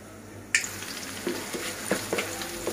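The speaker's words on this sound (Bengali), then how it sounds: "এটির মধ্যে ফার্স্ট টাইম পেঁয়াজ ছেড়ে দেবো।" Chopped onions dropped into hot oil already holding cinnamon sticks and bay leaves give a sudden close sizzle, then a steady frying hiss with occasional stirring scrapes in a pan.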